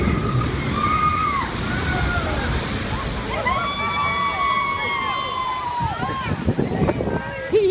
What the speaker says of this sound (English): He is going to get splashed.